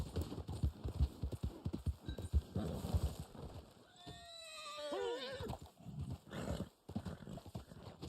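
A horse in the video game Red Dead Online whinnies with a rising, wavering neigh amid soft hoof clip-clops, heard over game ambience with a little background talk.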